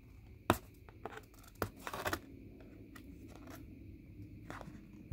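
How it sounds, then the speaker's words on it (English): Someone peels the sticker off a Hot Wheels card packaging a 1970 Mustang Mach 1 police car. There are close, sharp tearing and crinkling sounds, one longer rip in the middle and scattered small clicks, without speech. "I'm going to throw the card out, so why not peel it, right?"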